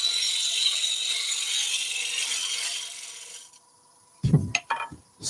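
Woodturning gouge cutting a concave curve into spinning timber on a lathe, a steady rasping shear that fades out, followed by a few short knocks and clatters nearby.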